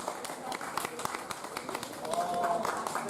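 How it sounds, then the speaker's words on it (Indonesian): An audience at a literary performance event applauds Mbah Teguh. Dense, steady clapping from many hands fills the space, with a voice speaking over it. "Monggo tepuk tangannya meriah untuk Mbah Teguh."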